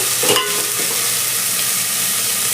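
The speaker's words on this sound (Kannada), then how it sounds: "ಈರುಳ್ಳೆಲ್ಲ ಚೆನ್ನಾಗಿ ಫ್ರೈ ಆಗಿದೆ, ನೋಡ್ತಿರ್ಬೋದು." Onions frying in a pan for dal khichdi, a loud, steady sizzle and crackle that runs throughout with a brief stirring scrape near the start and no talk.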